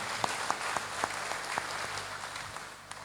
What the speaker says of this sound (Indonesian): Tepuk tangan untuk panjenengan semuanya